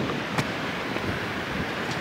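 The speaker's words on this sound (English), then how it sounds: "the waves are nice and calm" Calm sea waves washing onto a Spanish shore near Salou, a soft continuous surf wash with gentle swells, mixed with wind noise buffeting the microphone.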